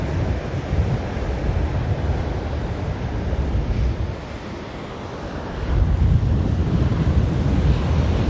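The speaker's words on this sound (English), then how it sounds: "Surf's coming in." Waves break and wash ashore at Waimanalo Beach, Hawaii, a steady surf roar that dips briefly and then swells louder again, with wind rumbling across the microphone throughout.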